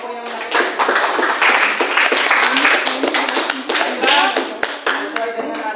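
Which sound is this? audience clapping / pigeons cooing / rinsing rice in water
audience clapping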